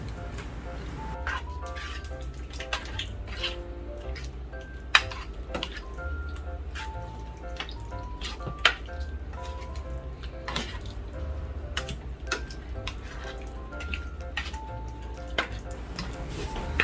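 Creamy baby potatoes being stirred in a pan, with scattered scrapes and taps of the spoon over a faint sizzle, quiet and close.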